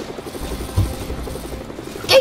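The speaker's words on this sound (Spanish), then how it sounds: "Que hay un helicóptero ahí y nadie le dispara ahí!" A helicopter in a video game, its rotor giving a low continuous chop and drone at fairly close range, mixed with other game noise and a short loud burst near the end.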